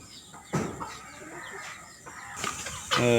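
Backyard farm chickens cluck nearby in short bursts, with a louder squawk near the start and a sharp cackle at the end over quiet background.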